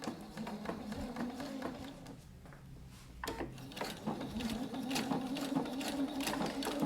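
Sewing machine running a triple top stitch along a quilted travel bag, a steady close mechanical whir with brief pauses and slowing, fabric rustling and handling noises mixed in.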